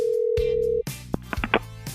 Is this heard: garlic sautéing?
no